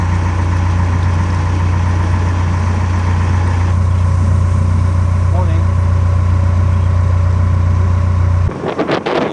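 A narrowboat's low diesel engine chugs steadily just above tickover, a deep constant throb close by, then cuts to quieter sounds near the end.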